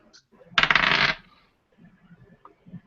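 Dice are rolled for a perception check during a live tabletop role-playing game at a convention, with a short, dense rattling clatter of about half a second, followed by quiet room noise.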